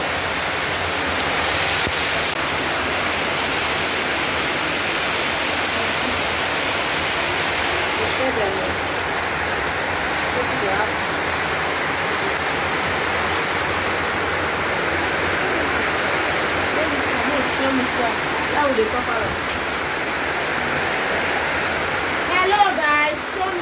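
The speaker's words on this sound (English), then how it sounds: "Guys, rain." Heavy rain pours steadily at night during a house flood, a dense continuous hiss that holds through the whole stretch with only slight swells, while voices speak faintly underneath.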